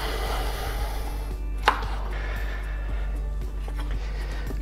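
A knife chops a second chili pepper on a cutting board while preparing a Thai cucumber salad, giving soft repeated taps under steady background noise, with one sharper knock standing out near the middle.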